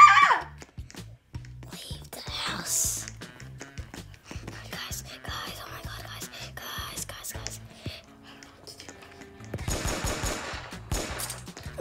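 Gunshots in the Roblox Brookhaven game, fired in a haunted house: scattered sharp shots and a rapid burst of fire near the end, with whispery talk in between.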